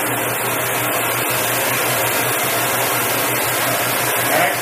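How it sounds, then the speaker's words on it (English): An oxy-acetylene torch burns with its oxygen preheat valve open, giving a steady, loud, close roaring hiss. "Next, I will open oxygen preheat valve to neutral flame."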